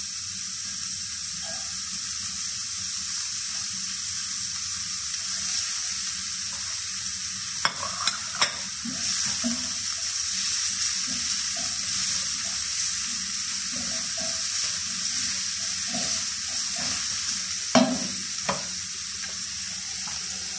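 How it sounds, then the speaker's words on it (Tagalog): Eggplant and minced pork sizzle steadily in a pan with a little oil, a constant frying hiss broken by a few sharp scrapes and clacks of stirring. "Kaya, mag-gisa na tayo."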